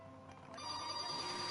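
A phone rings steadily during gameplay at work, its electronic tone swelling louder about halfway through and holding bright and sustained with no one talking.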